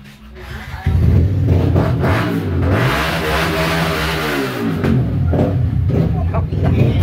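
A big motorcycle engine starts and revs loudly nearby, the rising and falling engine note running steadily throughout, with people talking over it.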